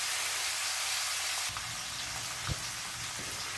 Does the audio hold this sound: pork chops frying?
yes